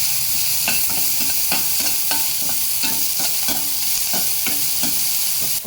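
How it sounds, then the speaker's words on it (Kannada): Onions sautéed and stirred in a pan for mushroom Manchurian: a steady close sizzle with rhythmic scraping stir strokes recurring through the whole stretch, no voices. "ಈರುಳ್ಳಿ ಹಾಕ್ಕೊಂಡು ಅದನ್ನು ಸ್ವಲ್ಪ ಬಾಡಿಸ್ಬೇಕು"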